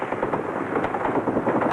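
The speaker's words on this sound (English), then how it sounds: "they came under furious gunfire from Palestinian guerrillas" Dense, continuous rattling gunfire from Palestinian guerrillas, loud and steady without pause, like sustained automatic weapons fire.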